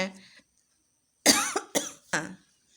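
A person with a cold coughs three times in quick succession, close and fairly loud, after a brief throat sound at the start.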